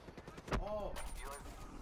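Gunfire in a Call of Duty multiplayer match: a short burst of sharp shots rings out under game effects and a swooping electronic tone, with background noise throughout.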